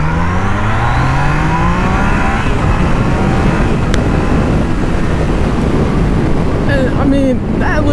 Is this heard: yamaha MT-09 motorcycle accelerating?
yes